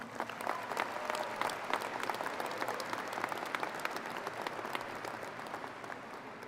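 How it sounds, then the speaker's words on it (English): A crowd at a high school graduation ceremony gives warm, sustained applause for the staff, many hands clapping steadily throughout. "so give them a round of applause"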